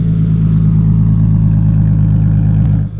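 Nissan R32 GTR engine droning steadily at high RPM while driving, a loud continuous low rumble held for the full stretch with a brief dip near the end.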